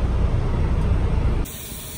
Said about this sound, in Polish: syczy, zepsuł się ten zawór